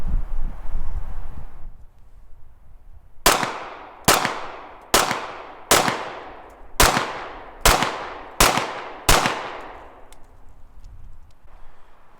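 Remington R51 pistol firing a magazine of mixed Winchester and Federal cartridges, eight sharp outdoor shots at a steady pace roughly one per second, each ringing out and decaying before the next.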